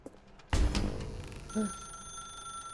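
A telephone rings in the video game The Stanley Parable, an electronic ring tone that follows a loud thump and a rumble and then holds as a steady tone.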